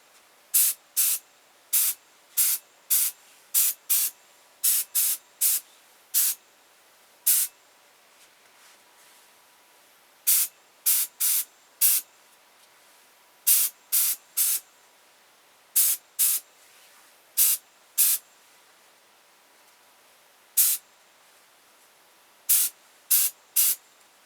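Short bursts of an airbrush on a low setting spraying red paint onto a carved wooden ventriloquist dummy head, about thirty crisp hissing puffs in uneven clusters, close and alone over near silence.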